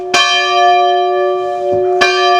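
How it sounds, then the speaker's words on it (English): A church bell in the Smokies, swung by pulling down hard on its rope and giving slack, rings out loud and close with two clear strikes whose long, humming tone sustains between them, no voices heard. "when you ring a church bell, you got to get a rhythm going"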